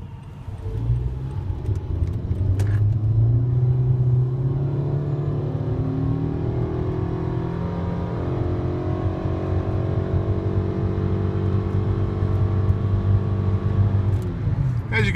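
A car engine pulls hard at full throttle from 0 to 70 mph, its steady drone rising smoothly in pitch without gear changes, loud and close for the whole stretch.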